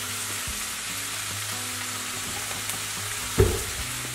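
A small hot jalapeno frying in a pan, a steady close sizzle of oil with a brief louder pop or stir near the end.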